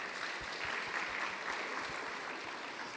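An audience at a safety conference claps steadily for a few seconds, a dense, even patter of many hands with no voices over it.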